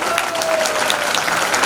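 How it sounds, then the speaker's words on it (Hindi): Loud, sustained crowd applause at a Janmashtami certificate ceremony, even and unbroken across the short stretch, with a faint tonal hum running beneath. "जोरदार तालियां बजाकर।"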